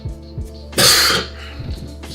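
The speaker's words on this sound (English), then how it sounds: "Sorry for the cough." One harsh cough or throat clearing close to the microphone, a short loud burst in the middle of an otherwise quiet stretch with faint background sound.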